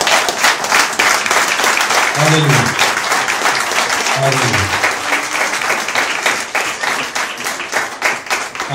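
Loud, continuous clapping from a church congregation offered as praise to God, with a voice calling out twice over the dense applause.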